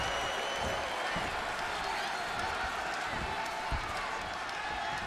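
A Brooklyn arena crowd in the WWE 2K20 wrestling game roars steadily, with a dense, loud wash of cheering and applause throughout and no clear break.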